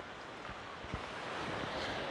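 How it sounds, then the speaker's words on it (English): Strong wind buffeting the microphone on the coast at Tulum, a steady low roar with surf-like rushing and a few gusty thumps, faint and continuous. "It is extremely windy."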